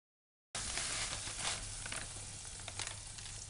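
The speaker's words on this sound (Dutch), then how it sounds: "Dat roer ik goed door elkaar heen." A thick cake filling for a stracciatella cream cake is stirred steadily in a bowl, giving a continuous close, soft scraping and wet patter with no talk.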